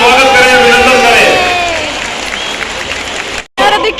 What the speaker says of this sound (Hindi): एक बार जोरदार तालियां बजाकर ताकि कांगनी धाम में भी वो तालियां सुनाई दे, मोदी जी का स्वागत करें